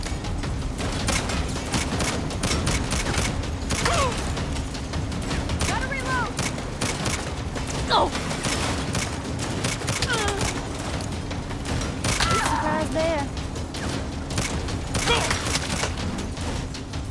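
Gunfire and mounted turret fire erupt in a Saints Row convoy mission, a dense continuous barrage of rapid shots and blasts under a steady engine drone, with voices occasionally shouting over the din.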